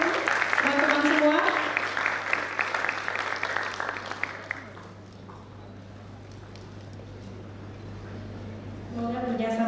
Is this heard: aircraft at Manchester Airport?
no